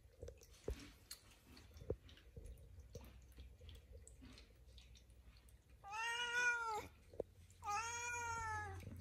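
A domestic cat meows twice near the end, two drawn-out, harmonically rich calls after quieter rustling and small clicks near a kibble feeder and water fountain.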